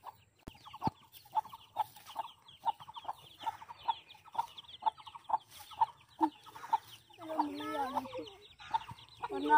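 Hens cluck in a steady, regular pulse nearby, with a few longer warbling calls mixed in and soft background noise.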